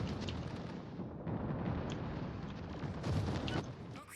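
Armor-piercing bombs burst in World of Warships naval combat, a dense, rumbling rolling barrage of explosions heard at moderate distance, steady for a few seconds with a heavier surge near the end.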